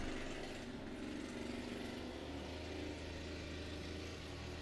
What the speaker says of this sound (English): The leaf blowers are here.